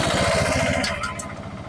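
Motorcycle with a loose chain being tightened, its engine running with a rapid, uneven putter and rattle close by, steady and fairly quiet for a short stretch.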